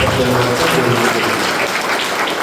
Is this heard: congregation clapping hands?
yes